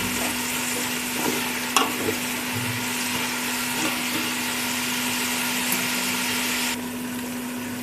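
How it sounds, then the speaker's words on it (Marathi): Onions sizzle steadily in hot oil with a constant frying hiss, a steady low hum underneath and a couple of sharp utensil clicks, no voices. "कांदा चांगला फ्राय करून घ्यायचा आहे तेलामध्ये"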